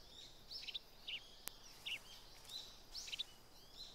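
Bird calls in the stealth video game Metal Gear Solid 3, set in a jungle: several short, high chirps and tweets repeating at intervals, faint against a quiet background.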